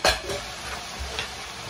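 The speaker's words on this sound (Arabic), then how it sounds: "وهان انا غادي ندير هاد البطاطا هنايا تقلى" Potato pieces fry in hot oil in a pan, giving a close, steady crackling sizzle with a few soft clicks of stirring, and no voices over it.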